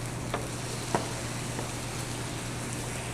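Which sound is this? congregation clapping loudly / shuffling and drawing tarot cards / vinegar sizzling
vinegar sizzling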